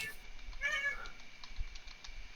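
A pet cat gives one short, faint meow with a rising then falling tone, followed by light clicks and tapping like typing on a keyboard in a quiet room.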